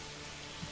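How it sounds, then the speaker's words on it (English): Steady rain falls in the medieval city-building game Manor Lords, a constant even hiss of drops on surfaces throughout, faint and unbroken, with no talking. "Look at that morning rain."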